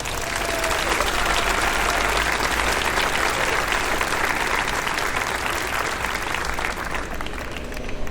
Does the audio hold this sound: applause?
yes